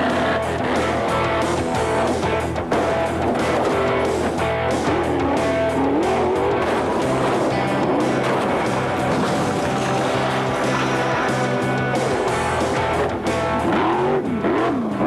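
A race car's engine roars loud and close from an onboard camera position, a continuous high-revving drone that rises and falls through gear changes, with no voices.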